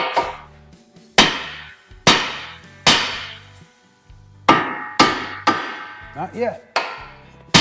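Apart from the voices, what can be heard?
hammer striking steering knuckle to free tie rod end, Honda Pilot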